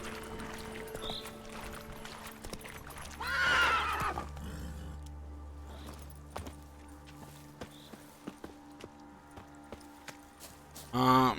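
A horse in the video game The Witcher 3: Wild Hunt gives one loud whinny early on. Steady rhythmic hoofbeats follow over a quiet background hum and end with a louder burst.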